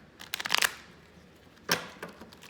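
Cards being shuffled, two short crisp riffling bursts separated by a pause, close and fairly quiet with no talking.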